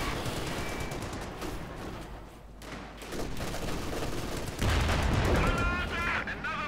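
Panzer IV tank cannon fire in the real-time strategy game Company of Heroes 2, heavy booming shots and rattling gunfire in a dense battle mix, with a commentator talking over it.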